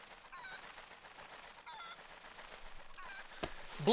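Chickens squawk in the video game Twilight Princess, three faint honking clucks spaced evenly over a quiet backdrop, followed by a short sharp thump and a louder burst at the end.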